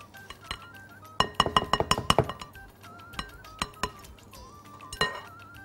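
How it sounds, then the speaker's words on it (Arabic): Glass serving plate clinking in a kitchen while an onion and labneh appetizer is prepared: a quick run of bright chinks and clatters, then scattered single knocks, close and fairly loud with no talk. "يلا تعالوا نجيب طبق التقديم"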